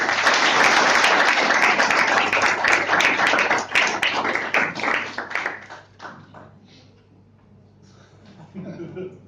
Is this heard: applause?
yes